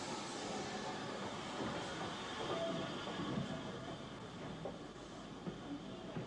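A Southern Railway Maunsell steam locomotive brings in a train of period coaches, rumbling steadily nearby, a continuous broadband roar with faint rhythmic rail clatter and no voices.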